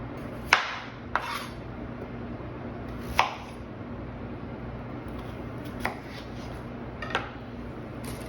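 A knife cuts a large radish into quarters, with about six sharp, separate chops hitting the board at irregular intervals over a low background hum.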